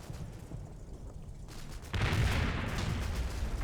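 Gunfire from the Normandy battle game Combat Mission Battle for Normandy, a steady crackle of distant shots that swells into a louder, denser fusillade about halfway through, with no talking.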